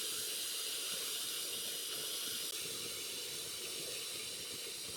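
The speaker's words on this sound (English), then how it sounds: "Quite the head of steam." Steam hisses continuously from a vessel while activated charcoal is made with steam, a loud, steady, close broadband jet sound with no talking.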